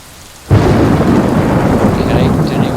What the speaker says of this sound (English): It just all changed, and it's now raining